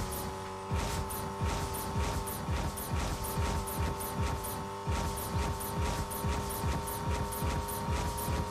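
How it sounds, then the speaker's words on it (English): Car engine from the Fortnite video game, droning steadily and revving in repeated bursts with tire squeals as the vehicle is driven around, loud and continuous with no talking. "Just drive around until we see someone,"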